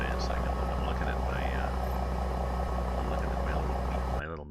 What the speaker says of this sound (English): the engine sound is too loud relative to